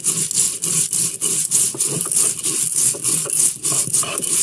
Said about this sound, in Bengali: এখানে আমি জিরা, আদা, রসুন এবং পেঁয়াজ বেটে নিয়েছি।